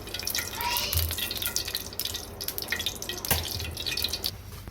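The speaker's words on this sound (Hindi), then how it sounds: "कढ़ाई में मैं थोड़ा सा कुकिंग ऑयल ऐड करूँगी" Cooking oil poured into a wok over a lit flame, a soft liquid trickle and dripping that swells and fades over a few seconds in a quiet kitchen.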